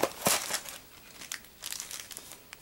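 Tape peeled off Beyblade Burst booster packaging gives quiet crinkling and tearing, a sharp rip near the start followed by scattered soft crackles, close and faint.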